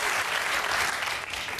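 A studio audience at a German late-night talk show breaks into loud, steady cheering and applause that fills the whole moment without pause.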